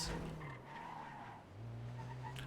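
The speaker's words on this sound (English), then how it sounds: "Chat, this is my new tuner car." Tuner car in a video game skids with a brief tire screech at the start, then the engine drone dips and rises again into a steady hum, quiet and close.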